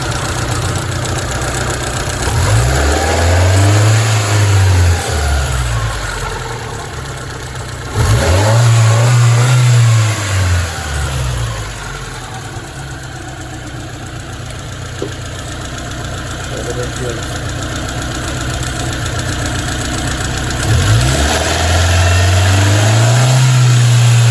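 Hyundai Accent 1.3 engine running loud and close while the radiator fan cycles on and off, its whir rising and falling in repeated swells over the steady engine drone.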